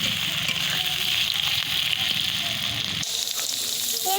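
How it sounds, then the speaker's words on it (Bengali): Potatoes and onions sizzle steadily in a hot pan of oil, a dense, continuous close-up frying hiss with a slight shift in texture near the end. "এরপরে পেঁয়াজ আলু ভালো করে ভেজে নেব"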